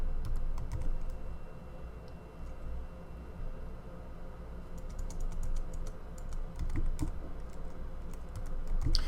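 Quiet clicking of keys on a computer keyboard comes in irregular bursts during coding work, soft and close with no talking.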